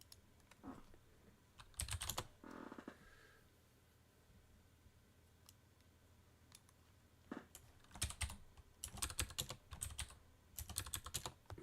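Bursts of computer keyboard typing while entering a command at the command line, clattering in quick clusters with quiet pauses between, close and moderately loud, no speech.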